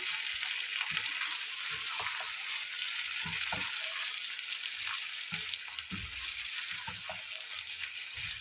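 Bhindi gosht with okra and onion stirred in a frying pan: a soft continuous sizzle with scattered scrapes and knocks of the spoon, fairly quiet and close, no voices.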